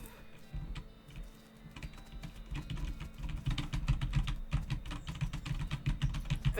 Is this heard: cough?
no